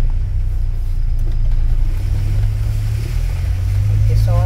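A car drives past on a flooded, rain-soaked street at the beach in Tramandaí, a loud continuous low rumble and wet hiss of tires through water.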